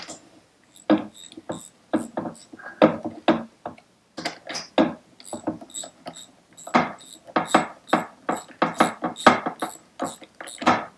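Ratchet wrench turning a 13mm socket on a nut during scooter gearbox work, heard as irregular bursts of sharp clicking strokes, close and fairly loud, with short pauses between runs.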